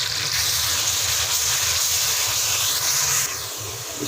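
Chopped onion sizzling in hot ghee, with ginger and garlic already in the pan: a loud, steady frying hiss that runs throughout and eases off slightly near the end, with no voices.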